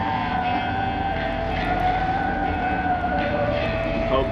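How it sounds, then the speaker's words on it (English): Theremin music plays in the video game Outer Wilds: Echoes of the Eye, a wavering, sustained eerie tone over a dense, droning low backdrop, continuous and fairly loud. "We're just going to sit here and listen to the theremin."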